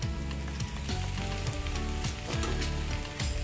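Ghee sizzles and fries steadily in a pot of biryani with the gas off, a continuous close crackling hiss with faint clinks and no talk.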